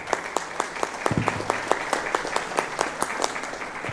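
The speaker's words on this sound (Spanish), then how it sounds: "para quien pido un fuerte aplauso" Audience applause for a panel at a national cooperatives congress in Guatemala, a steady crowd clapping with dense, even rhythm throughout, moderately close in a hall, with no talk over it.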